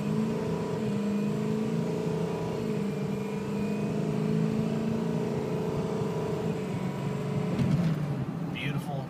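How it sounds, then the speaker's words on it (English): A 2006 Ford F250 diesel pickup accelerates from a stop inside the cab, its engine drone steady and its turbo building underneath, with a person talking over it throughout. "There's the turbo."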